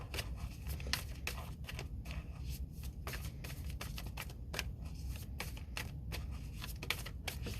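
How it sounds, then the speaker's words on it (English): Tarot cards are shuffled by hand in a quiet room, producing close, soft, repeated riffling and snapping taps at an irregular but busy rhythm. "And one more shuffle."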